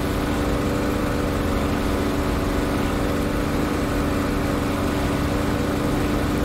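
Spitfire LF Mk. IX piston engine in DCS World drones loudly and continuously with a steady, unchanging rumble, close and alone.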